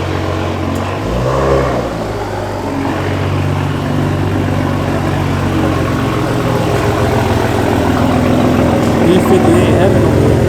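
BMWs with B58 engines lined up at a busy car meet, a steady blend of idling and revving engines under crowd chatter, with a deeper revving car passing close early on.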